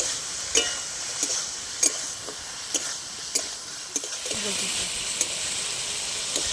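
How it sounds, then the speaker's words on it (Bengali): Ridge gourd sautéing with turmeric and chilli powder in a pan, giving a steady hiss and sizzle with a sharp spatula scrape or clink every second or so. "এবার খুব ভালো করে কিছুক্ষণ আমি কষিয়ে নেবো"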